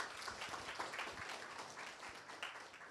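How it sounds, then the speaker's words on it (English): An audience at a tech meetup applauds, a dense, steady patter of many hands clapping close by for a few seconds without pause. "Another round of applause"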